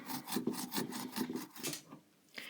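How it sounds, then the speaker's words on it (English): Fresh ginger is rubbed across a toothed grater in quick, even scraping strokes, close and quiet, with a brief pause near the end. "So I'm just going to grate it."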